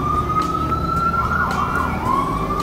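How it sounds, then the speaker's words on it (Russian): Loud ambulance siren wailing on a Manhattan street in New York, a close, continuous rising and falling tone over traffic rumble with no talk. "Тут, кстати, вот с ненормальной громкостью орут эти скорые, а пожарные еще громче."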